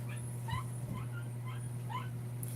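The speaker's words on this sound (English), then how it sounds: "It's my neighbor's dog." A neighbor's dog lets out a series of high, thin whimpers and short yips, faint and somewhat distant, repeating irregularly over a steady low electrical hum.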